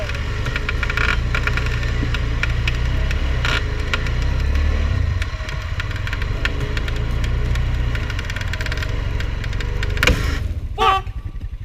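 A Honda Pioneer side-by-side stuck in snow runs with a steady low engine drone, rising slightly as the throttle is worked, loud and close, ending with a sharp mechanical snap and clatter near the end.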